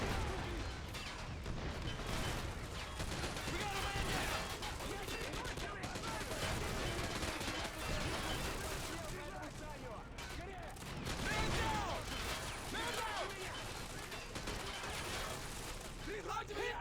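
Dense battle gunfire with heavy rounds from BMP armored vehicles in a Call of Duty: World War 3 mod, a continuous rattle and crack of shots and thuds while a commentator talks over it.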